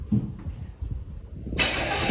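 Engine of a 1977 Chevrolet El Camino cranking over, a rough low churning that builds and then jumps to a louder, brighter roar in the last half second, close by.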